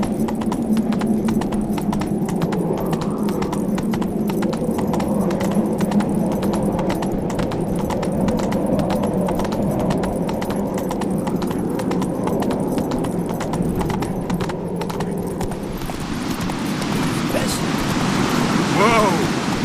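Hooves of Roach, the horse in The Witcher 3, clip-clopping in a fast, steady galloping rhythm throughout, with wind and surf-like rushing late on and a voice speaking over it.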